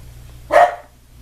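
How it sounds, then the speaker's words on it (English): A single sharp dog bark, close and fairly loud, over a low steady hum. "my dogs are barking their little life away"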